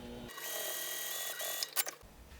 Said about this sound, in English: I'm going to top stitch just 1/8 of an inch away from this connecting edge right here.